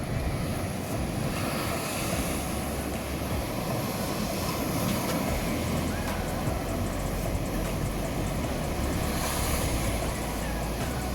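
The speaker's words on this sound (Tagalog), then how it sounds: "So pakinggan lang natin yung alon." Ocean surf at Tondaligan Beach in Dagupan City, Philippines, washes in a continuous broad rush, steady and moderately loud, with wind mixed in and no talking.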